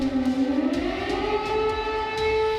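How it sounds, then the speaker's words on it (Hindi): An air raid siren wails over wartime Kyiv, a loud, sustained civil defense tone that rises and swells in pitch over a few seconds, with no voices. "इस बीच कीव में लगातार एयर रेड के सायरन बज रहे हैं।"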